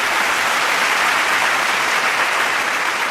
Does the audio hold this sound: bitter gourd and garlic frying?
no